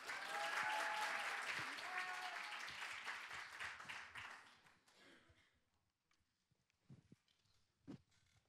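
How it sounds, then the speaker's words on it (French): An audience at an eloquence contest final gives a speaker applause, loud sustained clapping that thins and fades out halfway, leaving a few scattered claps and small noises in near quiet. "On encourage et on applaudit très très fort"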